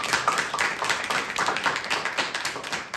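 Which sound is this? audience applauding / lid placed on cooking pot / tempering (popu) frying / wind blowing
audience applauding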